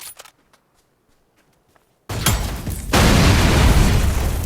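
A car explodes in an online shooter video game: after quiet footsteps, a sudden loud boom erupts, then a second surge into a sustained roaring blast and crackling debris.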